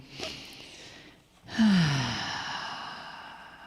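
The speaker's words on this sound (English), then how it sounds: "take a nice, full, deep breath in" A deep, full in-breath taken together by a seated audience during a guided relaxation, a soft airy rush swelling loudly after a brief lull and then tapering slowly.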